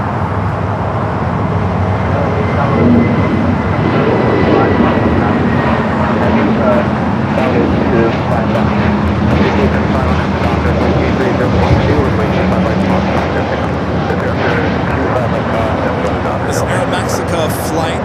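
A Boeing 737 MAX 8 airliner arriving from Mexico City taxis at LAX, producing a loud, sustained jet engine roar with a faint whine on top. Constant broadband noise dominates throughout.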